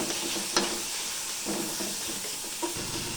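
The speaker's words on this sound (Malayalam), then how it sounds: "നമുക്ക് നല്ലോണം ഇളക്കി കൊടുക്കാം." Tomatoes and onions fry with a constant loud sizzle in a pan, broken by a few soft scrapes and knocks of a stirring spoon.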